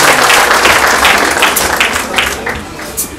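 An audience at a youth support event in Rwanda claps in loud, dense, sustained applause that fills the whole stretch and eases slightly toward the end.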